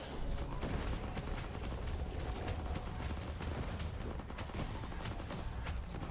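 Rapid gunfire from a zombie survival base-building game, dense streams of quick shots rattling continuously over a busy game soundscape, with no talk.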